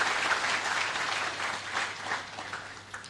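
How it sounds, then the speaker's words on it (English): An audience at a national anti-corruption conference applauds the Youth Pillar singers, steady broadband clapping from many hands that holds for about three seconds before thinning slightly at the end. "Another round of applause for Youth Pillar."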